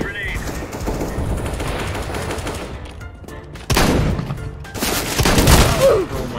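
Shotgun blasts in Counter-Strike: Global Offensive, a few loud, sharp bursts amid ongoing gunfire with voices talking over them.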